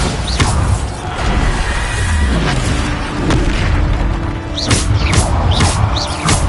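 Bombarda spell blasts in a Hogwarts video game: heavy booming explosions with crashing debris and whooshing bursts, loud and close, repeating across the moment with no talk.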